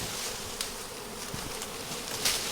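A bee swarm buzzes outdoors as a steady, dense, hissing drone with no talk, recorded from some distance.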